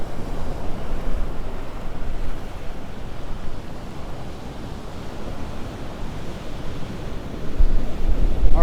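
Ocean surf rolls in steadily with gusty wind buffeting the microphone on Vanderbilt Beach as Hurricane Helene approaches, a continuous loud roar that swells near the end as a bigger wave breaks close by.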